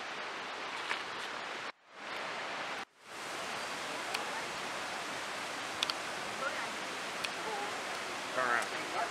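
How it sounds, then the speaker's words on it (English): A waterfall seen from a suspension bridge pours as a steady, broad rushing roar, briefly cut twice by short dropouts, with faint scattered clicks and rustles on top. "There's a waterfall."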